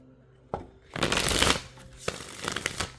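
A close-up burst of tarot cards being shuffled, a quick riffling rush after a single tap, then a few lighter flicks and taps.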